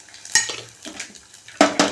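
Spices and vadagam sizzle while tempering in sesame oil in a pan for a brinjal kara kuzhambu, with a close, steady crackle and sharp clinks of a spoon stirring, and no speech.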